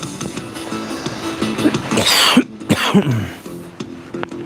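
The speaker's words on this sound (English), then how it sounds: "Why am I coughing so much?" A person coughs hard several times in a quick cluster, close up, amid faint background noise and scattered handling sounds.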